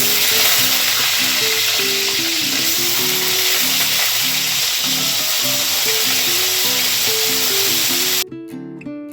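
Pumpkin and potato pieces sizzle and fry in a pan with a steady, loud hiss throughout, ending abruptly near the close as the sizzling drops off.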